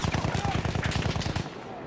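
Rapid automatic gunfire in the video game Battlefield 1, a loud, dense burst of repeated shots for most of the moment before trailing off into ambient battle noise.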